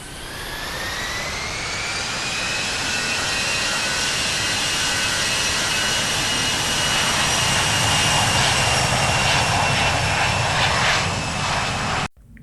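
Airbus A220-300 jet engines spooling up to full takeoff power in the Infinite Flight simulator game, a loud sustained roar with a rising whine that holds steady for several seconds before cutting off abruptly.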